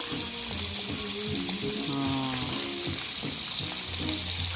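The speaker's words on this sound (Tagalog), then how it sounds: "i-deep fry po natin ang ating chicken" Chicken deep frying in hot oil, a steady dense sizzle and crackle running throughout at close range, with faint clinks and a few low tonal bumps underneath.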